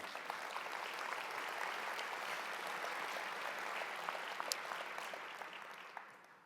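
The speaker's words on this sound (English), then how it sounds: "Give yourselves a round of applause again." An audience at a keynote talk claps steadily for several seconds, a dense wash of applause that fades out at the end.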